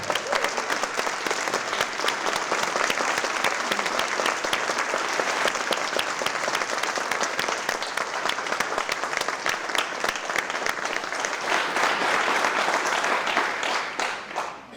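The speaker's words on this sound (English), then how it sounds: "Give them a round of applause." Sustained audience applause at a police department swearing-in ceremony in Sarasota, a dense, steady wash of many hands clapping that fills the whole stretch at even loudness before tapering at the very end.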